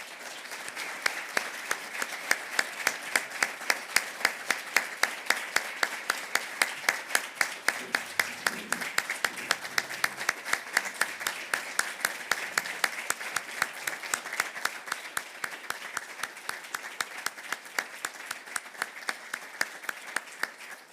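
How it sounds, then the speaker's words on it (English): A long round of rhythmic, unison clapping from an audience at a Minnesota legislative preview event, steady and moderately loud with a faint voice briefly underneath. "please join me in a round of applause"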